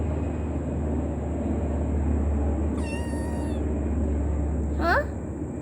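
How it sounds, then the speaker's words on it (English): A pet cat meows twice indoors, a rising harmonic cry midway and a short sharp one near the end, over a steady hum and low background noise. "Wow, little kitty wants to play."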